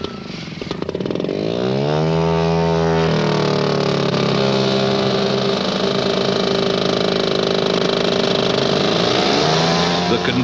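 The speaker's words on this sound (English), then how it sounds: "the 4 engines put out some decibels" Four engines of a large radio-controlled model aircraft, a loud, close, sustained drone that builds from a rising rev to a steady full-throttle roar with shifting pitch.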